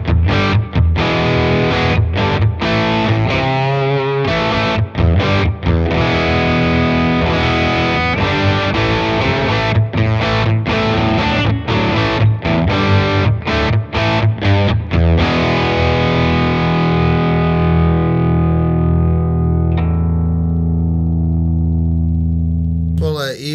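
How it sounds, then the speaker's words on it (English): Distorted electric guitar runs through a BOSS IR-2 loaded with an OwnHammer impulse response mixing Vox and Marshall cabinets with several microphones, playing loud sustained chords and riffs that ring out at the end. "This is the Vox cabinet mixed with the Marshall cabinet and a couple of different microphones all at the same time."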